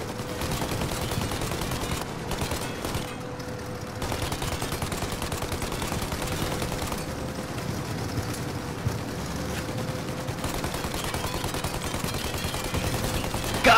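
Gunfire rattles in the video game Mafia Definitive Edition, with dense bursts of shots layered over a steady engine drone from a vehicle chase involving a plane, continuous and moderately loud.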